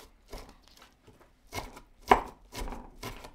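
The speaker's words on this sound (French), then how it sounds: "J'émince deux cives, 20 g de gingembre vinaigré," A knife mincing scallions and pickled ginger on a cutting board, a handful of sharp close chops in an uneven rhythm, alone without talk.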